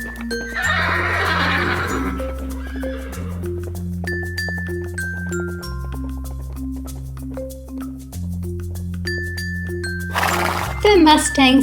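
A wild Mustang stallion neighs loudly in a clear whinny near the end, over steady background music with a brief voice and some hoof-like clatter earlier.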